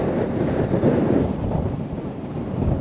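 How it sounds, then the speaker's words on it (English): Strong wind gusts buffet the microphone on a golf course, a loud, low rumbling roar that surges and eases continuously without any talk. "That wind just picked up very hard."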